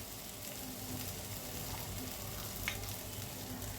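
A spice paste of ginger-garlic paste, turmeric, chili, coriander and Kashmiri red chili fries in a pan, giving a steady soft sizzle and crackle with a faint stirring scrape, low and continuous throughout.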